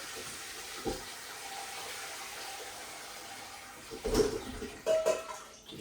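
Water drains from boiled cauliflower in a kitchen sink, a soft steady rushing flow with a few louder splashes and clatters toward the end.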